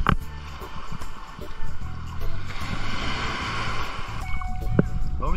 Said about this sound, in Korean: 넘실넘실 거리는 파도 위로 햇빛이 반사돼서 참 멋있는데